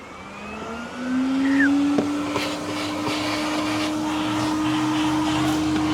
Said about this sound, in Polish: stacji benzynowej mamy darmowe odkurzacze